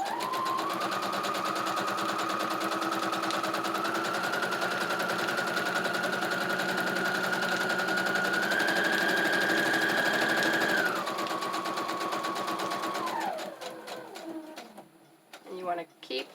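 A sewing machine runs steadily, stitching through a paper junk journal insert, with a constant motor whine that rises slightly in pitch partway through, then slows and stops near the end, followed by a few soft handling clicks.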